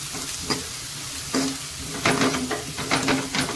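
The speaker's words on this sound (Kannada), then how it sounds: "ಇದನ್ನು ಕೂಡ ನಾನೀಗ ಎಣ್ಣೆಯಲ್ಲಿ ಫ್ರೈ ಮಾಡ್ತೀನಿ" Turmeric powder and chilli frying in hot oil, with a steady sizzle broken by several sharp stirring scrapes of a spoon against the pan, close and fairly loud.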